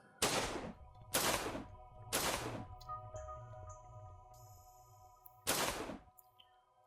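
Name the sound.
rifle gunfire in video game Skipchaser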